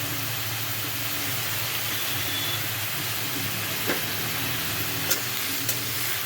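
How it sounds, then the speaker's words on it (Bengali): Vegetables with salt and turmeric fry in a pan for a roti sandwich, giving a dense, even sizzle that runs throughout at close range, with a low rumble underneath and a few light scrapes of stirring. "এটাকে ভালো করে ভাজা ভাজা করে নিতে হবে।"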